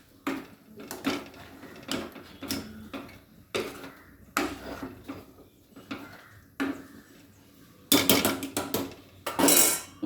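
Cooked chickpeas and onions are stirred in a pot, with a spoon knocking and scraping against the sides in irregular clattering strokes, close by, growing busier toward the end, with no talk.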